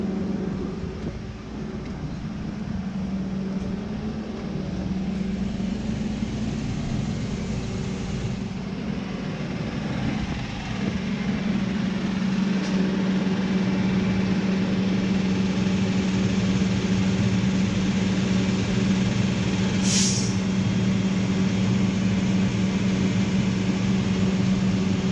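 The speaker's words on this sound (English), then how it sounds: "that's the tow truck taking my car to the body shop" A truck engine idles steadily with a low, constant hum and rumble, plus a brief high squeak partway through.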